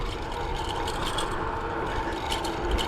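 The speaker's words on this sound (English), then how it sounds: "the rattles from the front rack bolts." Rattling from loose front rack bolts on a commuter e-bike with a 500 watt motor, a steady busy clatter of small metallic ticks over road and motor noise throughout, close to the listener with no talk.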